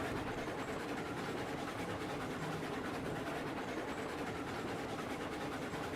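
A video game locomotive runs along a railroad track, giving a steady, dense rumble that stays even and unbroken throughout, with no voice over it.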